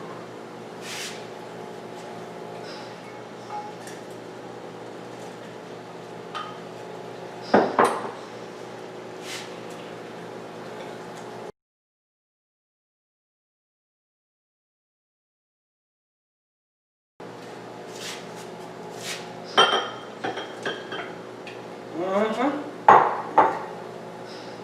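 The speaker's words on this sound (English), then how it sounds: "Then we're going to add the carrots, stir them a little bit." Carrots being stirred in a pan for low-sodium glazed carrots: close clinks and scrapes of a utensil against the pan over a steady cooking hiss, breaking off into silence before more scattered clatter resumes.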